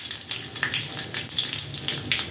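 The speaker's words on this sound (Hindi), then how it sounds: "अब इसमें हम डालेंगे जीरा और राई, थोड़ी सी हींग डाल देंगे, 2 लाल मिर्च डालेंगे" Cumin, mustard seeds, asafoetida and two dried red chillies sizzle in hot oil for a tempering, a steady close crackle and hiss with small pops scattered throughout, no voices.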